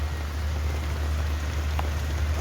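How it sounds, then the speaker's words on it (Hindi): Rain falls at night on a roadside with a parked motorbike nearby, a fairly faint, even hiss over a constant low hum, steady throughout with no speech. "बारिश हो रही है"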